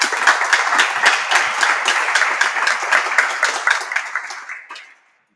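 Applause from a church audience welcoming a speaker, loud and close, with many hands clapping in quick overlapping bursts that hold steady and then fade out into silence near the end.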